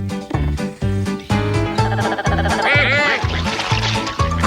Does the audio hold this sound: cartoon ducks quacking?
yes